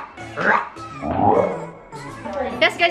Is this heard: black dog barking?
yes